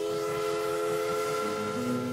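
Steam locomotive at Tweetsie Railroad, with a sustained steady whistle tone droning over low rumbling rail noise, loud and continuous, a second pitch joining near the end.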